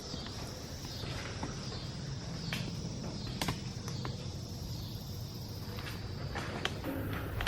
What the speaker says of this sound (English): I think I hear footsteps.